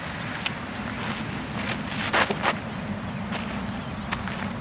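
Wind gusts across an open disc golf course, buffeting the microphone with a steady broadband rush that swells into a few louder puffs.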